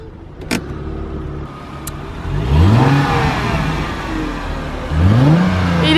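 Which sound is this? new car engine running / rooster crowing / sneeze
new car engine running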